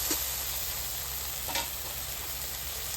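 Spice paste of cumin, coriander and red chilli powder with a splash of water frying in a pan, giving a low, steady sizzle with a faint brief scrape partway through, quiet and without talk.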